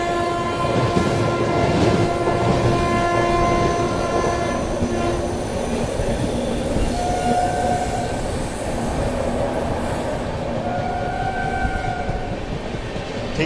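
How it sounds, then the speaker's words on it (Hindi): Goa Rajdhani Express passing through Godhra Junction at moderate speed, a steady loud rumble of wheels and carriages with sustained horn-like tones and brief whistles over the running noise. "ठीक ठाक रफ्तार में फिलहाल गोधरा जंक्शन को हम लोग स्किप कर रहे हैं।"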